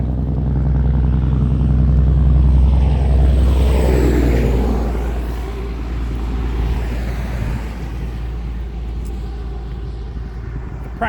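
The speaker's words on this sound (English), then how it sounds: "there's a really loud truck coming" A really loud truck passes close by, its deep engine rumble and roar swelling and holding for several seconds before slowly easing off, with no talking.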